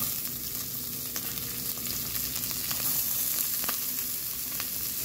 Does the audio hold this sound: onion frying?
yes